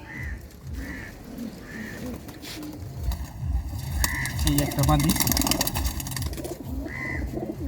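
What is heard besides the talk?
tournament racing pigeons cooing in a loft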